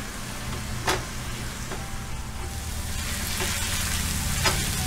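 Ginger and garlic paste frying and being stirred in a pan for egg curry, a steady close sizzle with occasional scraping stirs, no talk.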